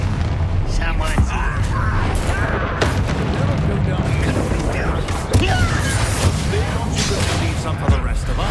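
Bombarda spell blasts in the video game Hogwarts Legacy, loud booming explosions layered with combat effects during a troll battle, sustained dense noise with sharp hits throughout.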